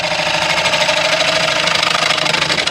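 A blunt gouge cutting a sandy, fissured white oak blank on a wood lathe, giving a loud, continuous rough grinding scrape with a rapid rhythmic chatter over the steady hum of the turning machine.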